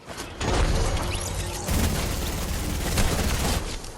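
Video-game gunfire in Fortnite, a loud burst of rapid shots and booms across most of a four-second stretch with no talking over it.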